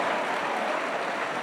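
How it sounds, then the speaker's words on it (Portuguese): Church congregation applause, a soft, even patter of many hands clapping throughout, heard at a distance. "E os filhos amados aplaudam ao seu pai."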